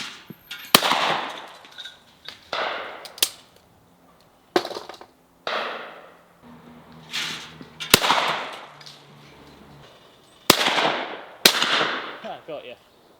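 Shotgun blasts at a clay shooting ground, a sequence of about ten loud, sharp reports with short ringing decays, spaced a second or two apart outdoors, with brief faint speech between some shots.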